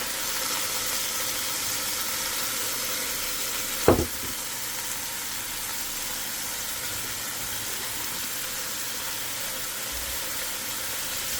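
Seasoned chicken and beef brown in a pan for sancocho de pollo y res, a steady, fairly quiet sizzle with one sharp clatter near the middle as a piece is turned.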